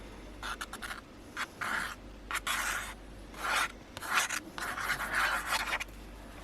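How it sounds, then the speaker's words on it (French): Glue rubbed onto a paper card while making a Gorjuss craft card: short, close scratchy strokes that come in bursts with brief pauses between them. "Je vais venir lui remettre de la colle."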